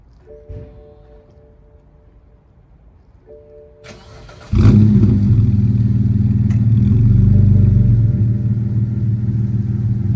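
A large car fitted with a wide body kit is quiet at first, then its engine fires up abruptly and settles into a loud, steady low-rev idle rumble heard close by.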